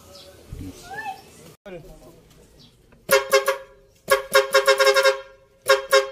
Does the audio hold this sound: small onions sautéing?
no